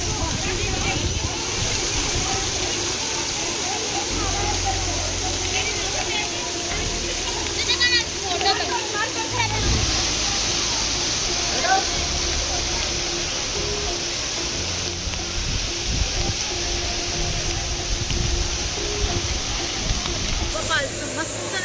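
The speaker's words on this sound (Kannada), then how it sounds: "ಬಟ್ ವಾಟರ್ ಫಾಲ್ಸ್ ಎಲ್ಲ ಕಡೆಯಿಂದ ನೀರು ಬರ್ತೈತಿ." Waterfall roaring continuously at Baba Falls and Amboli Falls in Maharashtra, a loud steady rush of falling water throughout, with people talking over it now and then.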